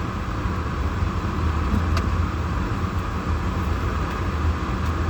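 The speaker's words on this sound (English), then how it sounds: "Even in park, my car darn on act like it want to joke. Damn, my engine loud as hell." A car sits in park with its engine running loud and rough, a steady low rumbling drone with constant broadband noise and no talk over it.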